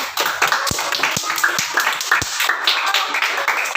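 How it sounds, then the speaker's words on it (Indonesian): A classroom group claps after a lesson on the names of Allah, a brisk mix of sharp hand claps and taps, moderately loud and close, with a few individual strong claps standing out from the patter. "Tepuk tangannya."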